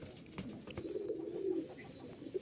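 A pair of Rajshahi Giribaz pigeons gives a soft low cooing, a continuous murmuring call that swells near the middle, faint and fairly close against light background noise.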